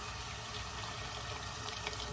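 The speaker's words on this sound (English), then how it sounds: "what I'm going to do is I'm going to add some water." Water poured into a pot of seafood ogbono soup, a steady close splashing gush with no breaks, filling the whole moment.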